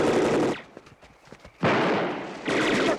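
Loud bursts of gunfire in a tense action scene: a heavy volley, a scatter of quieter cracks, then two more sustained bursts, with no speech.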